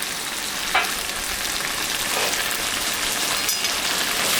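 Mutton sizzles steadily in a pan as it fries for a curry, a soft, even crackling hiss that carries on alone throughout with a few slightly sharper pops.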